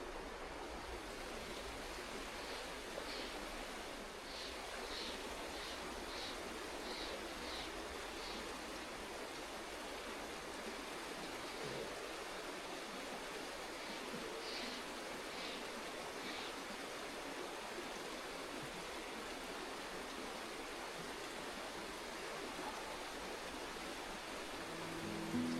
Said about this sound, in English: The steady sound of the creek slowly washed away the questions I had carried into this journey